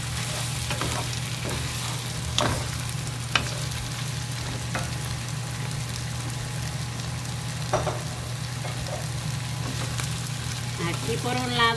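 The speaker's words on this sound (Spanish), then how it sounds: "aquí ya le voy a añadir los camarones muy bien lavados y ya están sazonados" Seasoned, washed shrimp frying in a pan, a continuous crackling sizzle over a low steady hum, with occasional soft taps and stirring sounds.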